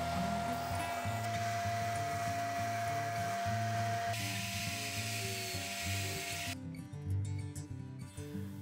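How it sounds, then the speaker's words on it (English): A belt sander grinds steadily against a metal camera stand lever, a continuous close, loud abrasive whine with a few changes in pitch and pressure as the part is reworked. "I cut it with a bandsaw and make adjustments with a belt sander."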